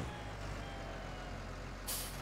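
A tractor engine idles with a steady low rumble in Farming Simulator 19, then a sharp air brake hiss bursts out near the end, close and loud.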